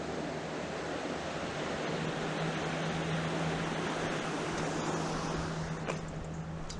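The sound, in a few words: fast-flowing River Conwy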